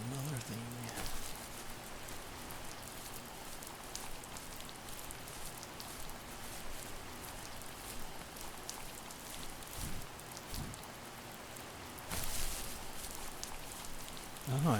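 Steady rain in The First Tree, a dense hissing patter that stays even throughout, with a few louder swells and faint thumps mixed in.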